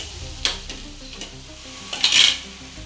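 Onions with green chillies and spring onions frying in a pan for veg Manchuria, sizzling steadily up close with a few scrapes and stirs and a brief louder burst of sizzle.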